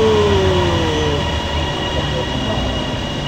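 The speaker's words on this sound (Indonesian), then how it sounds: "Kereta ARL kita." A Bangkok Airport Rail Link train rumbles along the rails with a steady low roar and a brief wheel squeal at the start, loud and continuous, with no speech.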